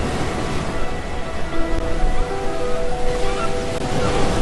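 Ocean waves wash steadily onto a beach, a continuous loud roar of surf and hiss with faint musical tones underneath.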